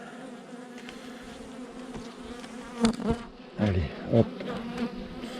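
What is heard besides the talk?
honeybees buzzing around a beehive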